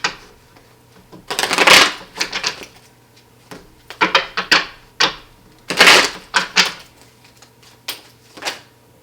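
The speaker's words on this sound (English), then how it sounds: "Let me shuffle." Tarot cards being shuffled in two quick riffling bursts with softer handling and taps between them, close and crisp with no talking.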